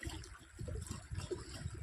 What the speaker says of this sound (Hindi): तो ऐसी है मेरे गांव की नदी,